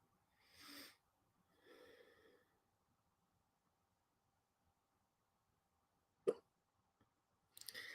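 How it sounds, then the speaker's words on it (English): Someone has hiccups early in the morning: several short, breathy catches come close to the mic and fairly quiet. Two arrive early, then a sharper pair follows a few seconds later, with near silence between them. "I hate hiccups in the first morning."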